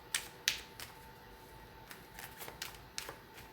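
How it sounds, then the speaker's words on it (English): A deck of tarot cards is shuffled in short, crisp bursts of riffling and snapping card edges, with quiet gaps between the bursts and no speech. "not used to shuffling that way"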